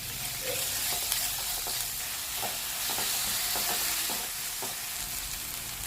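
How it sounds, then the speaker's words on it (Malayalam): Chopped onions with salt stirred in a hot frying pan, a steady hiss of sizzling under repeated scraping strokes of a spoon, close and even throughout. "അരിഞ്ഞത് ഇട്ട് കുറച്ച് ഉപ്പ് കൂടി ചേർത്ത് നന്നായി ഇളക്കി കൊടുക്കുക"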